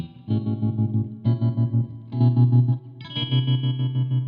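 Guitar chords run through a tremolo effect pedal set to a square wave, chopping the sound on and off abruptly in a steady pulse, loud and alone with no talking.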